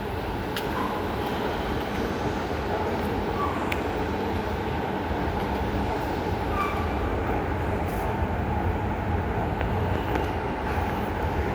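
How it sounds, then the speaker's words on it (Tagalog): Steady loud rumble of a Singapore MRT train in motion near Bras Basah, constant rolling roar with faint squeals and a few soft clicks throughout. "ganda na yung MRT dito na"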